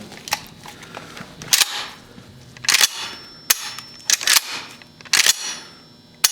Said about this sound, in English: It's a little bit of dry firing, as we have mentioned.